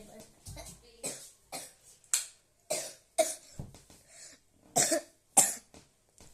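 Someone nearby coughs repeatedly, a string of short, harsh bursts in quick succession.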